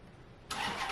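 A car engine that is already warm starts up, a quiet background suddenly giving way to a loud, close burst of engine noise that holds steady for the rest of the brief moment.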